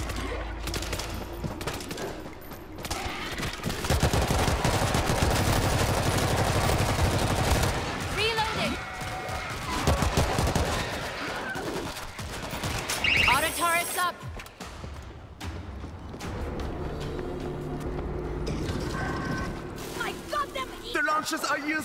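Machine gun fire in the World War Z video game rattles through a dense, chaotic battle mix, with mechanical clanks and other effects layered in and voices heard intermittently.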